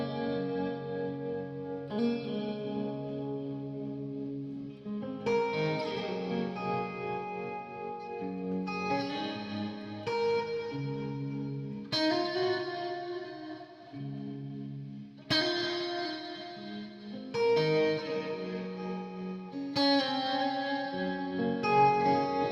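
A 2020 Fender Eric Clapton Stratocaster electric guitar with an Automatone, light reverb, delay and tremolo plays sustained chords and ringing notes, loud and close, in phrases restarting every few seconds, with no talking.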